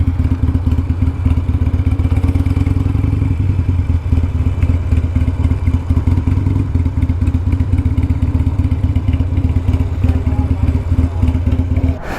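A Harley-Davidson motorcycle passes during a ride on a Sportster Iron 883: a loud, continuous low engine rumble with clattering and wind buffeting, steady for the whole stretch.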